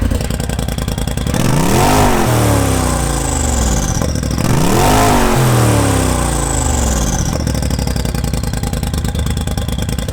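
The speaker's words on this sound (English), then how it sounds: "I might regret it, but this is the exhaust flap open" Cadillac Escalade with its exhaust flap open, revved hard twice in a row, each blip rising loud and deep then falling back to a throaty idle, close and very loud throughout.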